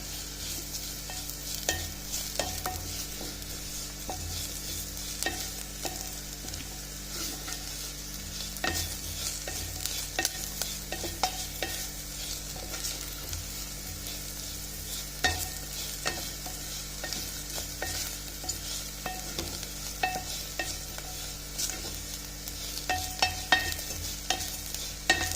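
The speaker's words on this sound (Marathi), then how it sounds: "जिरं आणि खोबरं हे शेवटी घालायचं, त्याला जास्त वेळ पाहिजे नाही खोबऱ्याला, ते लवकर भाजून येते।" Cumin seeds and grated coconut dry-roasting in a pan for Puneri misal paav, with a spoon scraping and stirring steadily over a soft continuous crackle, close and alone.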